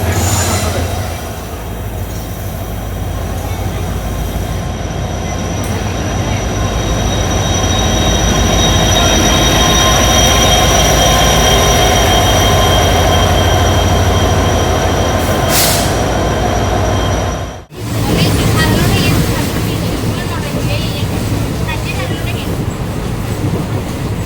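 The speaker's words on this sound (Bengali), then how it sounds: "এই দেখতে পাবে এখন ট্রেনটা আসলো স্টেশনে" A train rumbles loudly and continuously close by as it pulls into a station on the Sabroom line, wheels squealing with a high metallic whine, briefly cut off near the end.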